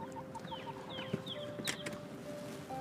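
Hens cluck softly in short, scattered calls against a low steady background hum, with a brief sharp knock midway.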